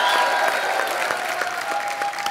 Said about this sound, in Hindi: तो आप सबकी जोरदार तालियों के बीच इनवाइट करना चाहूंगा